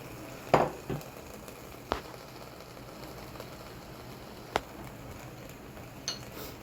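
Spices and garlic go into a pot of sizzling aubergine and red pepper vegan curry, a soft steady fry punctuated by a few sharp clinks and scrapes of the spoon against the pan.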